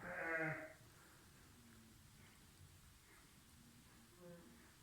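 A single newborn lamb bleats once, close and brief, followed by quiet background hiss and faint rustling.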